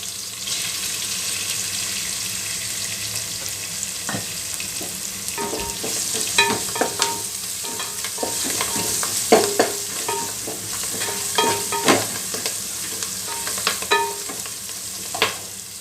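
Ground masala fries in hot oil in a pan for a soya curry, with a steady sizzle throughout and repeated clinking scrapes of a spoon stirring against the metal, growing busier toward the end.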